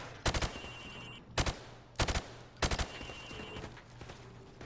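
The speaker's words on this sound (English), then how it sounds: "shoot at the targets while firing from the hip" Rifle shots fired from the hip at targets in a shooting game, four quick bursts of two or three sharp cracks each, spaced about a second apart, loud and close over a low hum.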